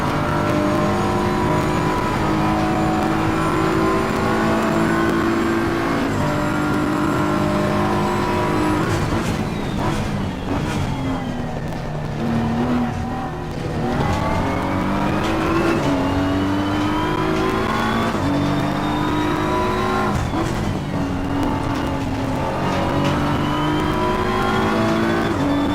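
A race car in Assetto Corsa Competizione revs hard through the gears, its engine climbing in pitch to the limiter again and again, loud and close, with brief dips at each shift.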